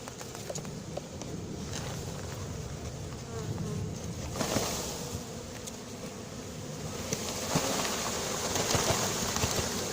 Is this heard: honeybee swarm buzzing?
yes